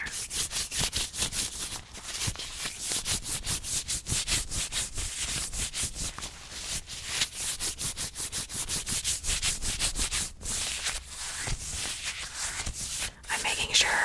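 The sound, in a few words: hand sanitizer being rubbed into hands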